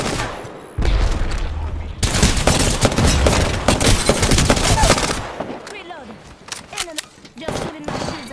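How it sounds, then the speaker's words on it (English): Gunfire in the video game Apex Legends: dense, loud bursts of rapid automatic fire and single shots that keep going, thinning into scattered shots and game effects toward the end, with a voice talking over it. "Listen up, I'm getting shot at."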